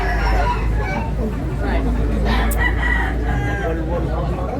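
Roosters crowing at a crowded rooster market in Tabunok, Cebu, amid a constant hubbub of people talking and general crowd noise that fills the whole stretch.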